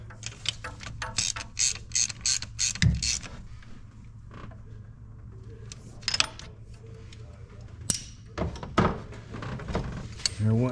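A ratchet snugging a spark plug into a 2014 GMC truck engine, with bursts of rapid clicking strokes spread across the clip over a low steady hum, and a voice talking in places.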